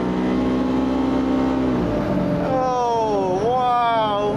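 A turbocharged Xpedition on its first test drive pulls hard under acceleration, its engine tone holding steady and then climbing in rising sweeps, loud and close throughout.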